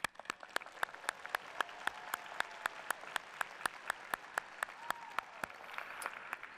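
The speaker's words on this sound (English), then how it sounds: "Cheer for the philosophers, please." At a university commencement ceremony in an arena, a fairly quiet crowd applauds philosophy graduates while one sharp, close clapper stands out with a fast, steady rhythm, with faint whoops and cheers mixed in.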